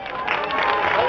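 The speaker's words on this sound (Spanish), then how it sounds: "Pues vamos a brindarles un fuerte aplauso." An audience cheers and applauds in a dense, loud, continuous burst after a school folkloric ballet performance at a secondary school in Aquila, Michoacán.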